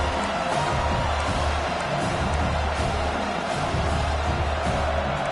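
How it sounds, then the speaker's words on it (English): Dense, steady roar of a football stadium crowd, a loud continuous wash of many voices with faint swelling cheers throughout, the noise seemingly making the stands vibrate. "listen to this crowd noise. This stadium is vibrating"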